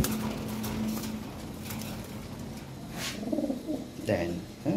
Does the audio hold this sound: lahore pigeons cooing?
yes